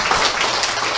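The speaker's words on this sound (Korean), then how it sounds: "우리 애터미를 맡는 박한길 회장님한테 박수 한번 드릴게요" Audience applause for chairman Park Han-gil at a seminar, a dense, loud burst of many hands clapping together in a brief one-second stretch.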